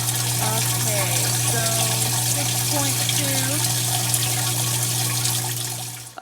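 Water running through a Tower Garden hydroponic tower, a steady trickling splash under a low constant pump hum, with a person talking over it before the flow cuts off at the end.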